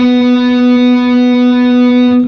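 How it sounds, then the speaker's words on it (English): A single sustained guitar harmonic, a pure bell-like tone ringing steadily and loudly before cutting off near the end. "that's how you get a nice sustained harmonic"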